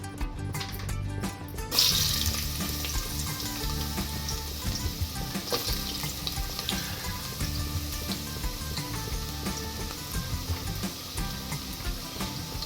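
Carrot pieces drop into hot oil in a pressure cooker with a sudden loud sizzle that settles into steady, bubbling frying, up close and continuous.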